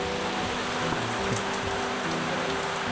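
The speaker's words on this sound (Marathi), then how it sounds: "एकदम जोरात पाऊस आलेला आहे." Heavy rain pours down during a village stay, a dense, steady hiss of drops on surfaces that stays loud and unbroken throughout, with no talk over it.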